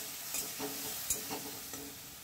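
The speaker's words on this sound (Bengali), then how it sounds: "মশলাটাকে একটু নেড়ে চেড়ে দিচ্ছি।" Spice masala of red chili powder loosened with a splash of water, stirred in a hot frying pan, giving a soft steady sizzle with a few scraping strokes spread over a couple of seconds.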